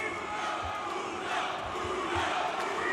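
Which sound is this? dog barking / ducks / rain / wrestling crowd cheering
wrestling crowd cheering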